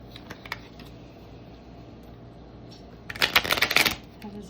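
Tarot cards are shuffled by hand in a close, dry flurry of riffling and flicking, with a few light taps early on, then a louder burst of rapid shuffling toward the end.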